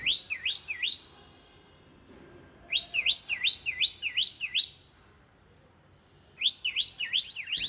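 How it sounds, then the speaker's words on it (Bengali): Pet birds indoors chirping in three bursts of rapid, shrill, repeated whistled notes, loud and close, separated by short quiet pauses. "আর এই যে আমাদের দুষ্ট পাখিগুলা, এগুলোর যন্ত্রণায় ঘরেই থাকা যায় না।"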